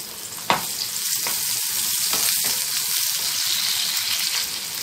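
Onions hitting two tablespoons of hot oil in a kadhai, opening with a sharp clack and then a loud, dense, continuous sizzle that holds steady throughout, close and alone.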